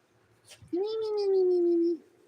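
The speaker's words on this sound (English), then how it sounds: "That's Simba, and that's my cat over there, Chloe." A cat gives a single drawn-out meow, rising then holding steady for about a second, close and clear, after a brief rustle, with nobody talking.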